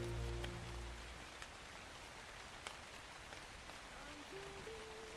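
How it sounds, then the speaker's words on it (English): Rain in the survival video game Ark Survival Ascended: a soft, steady hiss of falling drops with faint splatters, running under brief tonal game sounds near the start and end. "Man, it has been raining for such a long time."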